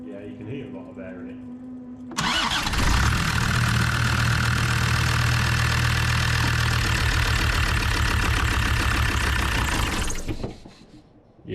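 A Land Rover TD5 diesel engine with air in its fuel system starts abruptly and runs at a loud, lumpy idle for about eight seconds before cutting out. It is quiet before the start and quiet again after the engine stops.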